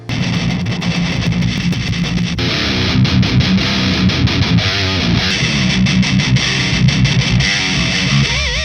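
Heavily distorted electric guitar plays dense, sustained chords with rhythmic chugging, loud and continuous throughout.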